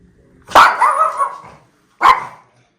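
A dog barks at a kitchen being plastered: one loud, close bark with a ragged, growly tail, a pause, then a second sharp bark.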